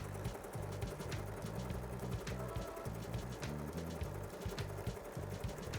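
A sewing machine runs steadily through free-motion quilting stitches, a continuous rapid mechanical whir and clatter with pulsing low tones, close and alone without talk.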